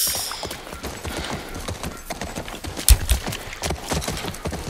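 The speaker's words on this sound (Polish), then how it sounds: "wskakujemy na konia" Horse hooves clip-clop in steady rhythm as a rider travels on horseback through a deserted area in The Last of Us Part I video game, moderately loud with a brief louder knock partway through.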